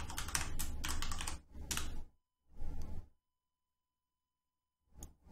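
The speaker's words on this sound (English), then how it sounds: "So I'm going to type that in." Rapid typing on a computer keyboard while entering a level name, with dense bursts of clattering keystrokes, then a short pause, one more quick burst, silence, and a final faint tap.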